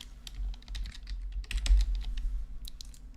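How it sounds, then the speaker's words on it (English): Fingers tapping on a computer keyboard, a quick, irregular run of light clicks close up, steady for a few seconds with no talking. "So we'll just type in,"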